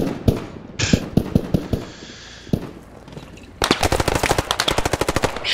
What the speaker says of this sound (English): there's a Thompson gunner in front of me